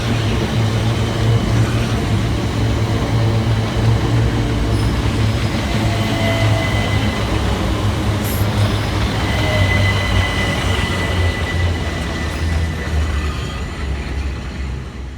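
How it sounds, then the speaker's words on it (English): An electric commuter train rumbles into Waterloo East station steadily and loud throughout, with rolling wheel noise and faint high squeals of the rails, easing slightly toward the end. "here comes our train to get us out of here"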